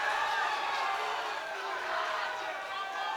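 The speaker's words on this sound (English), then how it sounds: "Crowd going mad." Crowd at a fight in Birmingham roars steadily, a dense, fairly loud wall of cheering and shouting that holds without pause, with a commentator's voice over it.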